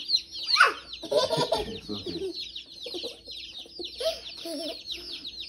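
Baby chicks just taken out of their shipping box cheep in a dense, continuous chorus of high peeps nearby, with a brief spoken word among them.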